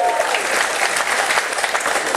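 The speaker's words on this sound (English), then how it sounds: "round of applause now, please" Audience applause at a Liar's Club game, a loud, sustained wash of many hands clapping in a room, steady throughout with a murmur of crowd voices underneath.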